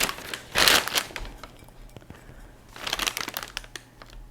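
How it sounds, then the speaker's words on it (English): Crinkly plastic packaging from a Hobby Lobby purchase is pulled open, with a loud crumpling burst early on and a second stretch of rustling and crinkling near the end, quieter handling between. "I'll unwrap it as we're talking"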